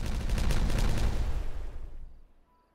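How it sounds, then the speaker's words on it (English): A big explosion in the beaver city-building game Timberborn at sunset, a loud broadband blast with rumbling crackle that sustains for about two seconds, then fades quickly to near silence. "we'll get a really big explosion"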